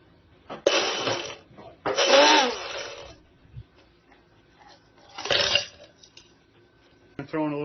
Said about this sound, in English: we'll try some ice and water and see how well it blends it up